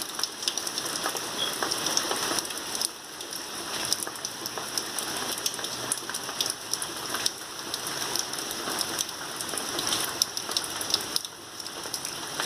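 Steady rain falling and pattering on surfaces, a dense continuous wash of drops with no voices.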